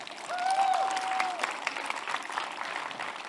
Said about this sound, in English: Big applause from the audience